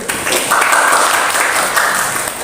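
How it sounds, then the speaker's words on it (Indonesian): A classroom applauding student Grace, a dense, steady round of clapping from a group of pupils, fairly close and loud, holding evenly throughout. "terima kasih kepada Grace, kita aplaus dulu"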